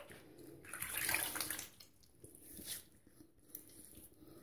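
Tap water runs and splashes during a rinse after a straight razor shave, loudest near the start and easing off into softer intermittent trickles.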